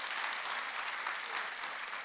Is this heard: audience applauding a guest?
yes